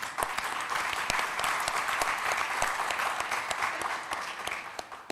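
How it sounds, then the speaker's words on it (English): An audience at an education festival event applauds, with sharp individual claps over a dense wash of clapping that gradually fades toward the end; no speech. "we start with a round of applause"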